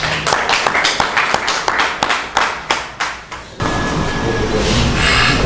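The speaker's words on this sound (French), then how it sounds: "On l'applaudit très fort, s'il vous plaît." Audience applause at a book presentation ceremony for a poetry collection, starting as a handful of distinct, fairly close claps that build into a loud, dense, continuous round of clapping filling the room.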